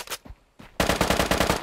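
PP-3000 gunfire in the video game Deadside: a couple of separate shots, a brief lull, then a rapid sustained burst of automatic fire with evenly spaced, loud, close reports.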